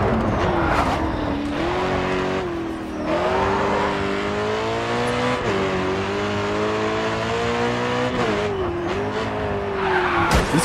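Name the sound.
race car skidding while turning in Grid 2 video game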